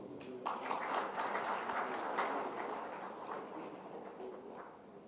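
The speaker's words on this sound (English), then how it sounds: "Let's welcome them with a warm round of applause." Moderate applause from a conference audience welcoming panelists to the dais at a net zero sustainability dialogue, a fairly distant wash of clapping that gradually fades.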